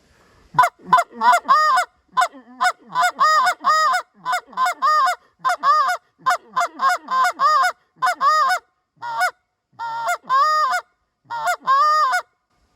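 A short reed Canada goose call is blown in quick series of short honking clucks, some stretched into longer moaning notes, loud and close with brief pauses between.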